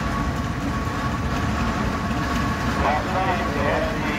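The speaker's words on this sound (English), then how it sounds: "That's a big old tractor right there." A big old tractor rolls past in the parade of power at the Southeast Old Threshers Reunion, its engine making a steady, loud, low rumble throughout with faint voices mixed in.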